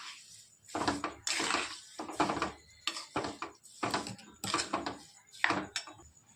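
A bowl of sugar being mixed for pumpkin barfi gives repeated scraping and clinking strokes of a spoon against the bowl, in rhythmic bursts with short pauses, close and fairly loud with no talking.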